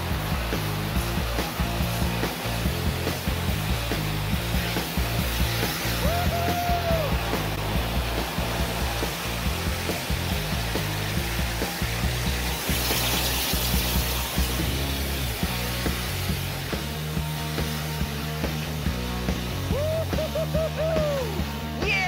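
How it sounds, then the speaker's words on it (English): A compressed gas cylinder releases gas to push a cart, a loud, continuous rushing hiss that holds steady for over twenty seconds with faint whistling tones riding on top. "The plan now is to use the compressed gas cylinder."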